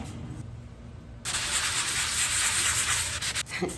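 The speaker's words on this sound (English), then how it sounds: "I'm sanding it with a finer grained sand pad" Steady abrasive rubbing of a fine-grit sanding pad on a wooden drawer, a quiet start then continuous harsh scraping strokes, close up.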